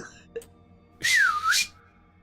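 A single wavering whistled note from a character voice line in the horror game Sker Ritual, dipping and rising over about half a second after a faint brief tap, fairly clear against a quiet background.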